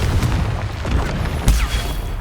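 A Confringo blasting spell goes off in Hogwarts Legacy, a loud booming burst that lands heavily and is followed by a second hard blast about halfway through, over a dense rumbling game mix.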